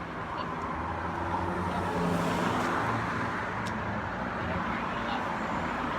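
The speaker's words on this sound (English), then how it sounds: "You hear so many cars driving by on the street that just obviously are in need of some work." Cars drive by on a street, making a continuous, fairly loud roadway rumble with no pause or distinct single pass standing out.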